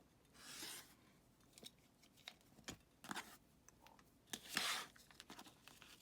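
Scissors snip and rasp through fabric while trimming a seam allowance for foundation paper piecing on a Halloween project box, giving several short, close cutting bursts with quiet pauses between them.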